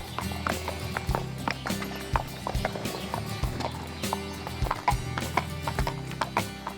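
Hooves of carriage horses clip-clop in a steady run of sharp strikes while the driving carriage is pulled into the arena at a horse-driving stud, moderately close with a low rumble beneath.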